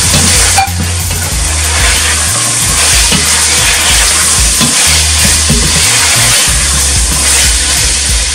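Celery stir-frying with chicken, carrots and other vegetables in a single pan, a loud steady sizzle with scraping stirring strokes throughout, close and continuous, no talking.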